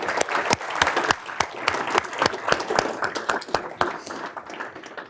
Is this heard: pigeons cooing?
no